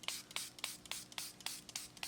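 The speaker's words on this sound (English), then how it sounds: "we're going to spray down our paints." A spray bottle mists water onto watercolor paints in about eight quick, evenly spaced hissing spritzes, close and fairly soft, with no voices.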